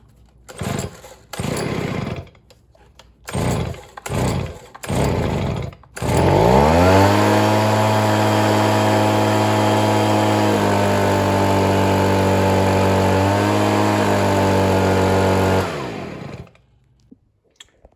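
A Stihl leaf blower with a newly replaced carburetor gets several short pull-start attempts, then the small engine fires and runs loud and steady for about nine seconds before cutting off.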